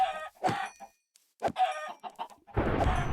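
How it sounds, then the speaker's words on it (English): Several Minecraft chicken clucks come in quick succession, then a pause and a louder, denser burst of clucking at the end, near and with no voices. "Generic B's here with his chickens."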